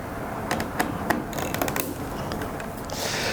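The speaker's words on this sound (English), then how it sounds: "Use a small Phillips head screwdriver." Small Phillips head screwdriver backing screws out of the back cover of an iManifold 900C unit, a run of faint close clicks and ratcheting ticks, scattered irregularly with light scraping between them.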